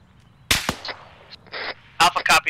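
Gunfire in the military shooter ArmA 3, several sharp cracking shots in short bursts, close and loud, separated by brief gaps, with squad radio chatter around them.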